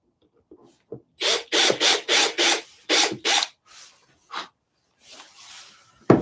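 Short screws being driven by hand with a screwdriver, a run of close, loud rasping turns in quick bursts followed by a few softer, scattered scrapes.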